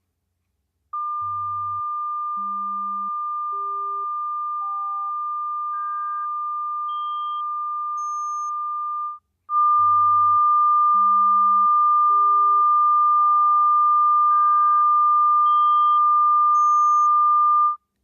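Pure steady tone for an auditory masking demonstration, a loud continuous beep held throughout, briefly interrupted once, while a quieter series of short test tones steps upward in pitch beneath it, clean and electronic with no talk.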